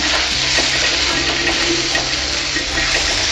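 Steady sizzling of masala frying in a pan for mutton intestine curry, with soft stirring scrapes, continuous and close throughout, no voices.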